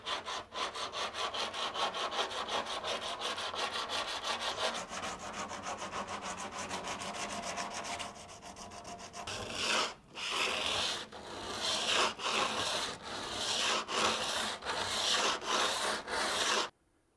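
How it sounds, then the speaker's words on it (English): Coarse 80-grit sandpaper worked by hand over a steel car fender during a fender-rolling job, first as a steady run of quick rasping back-and-forth strokes, then slower, louder separate scrubbing passes close up, with no talking. "So I'm going to sand this back with 80 grit and put some more epoxy primer on."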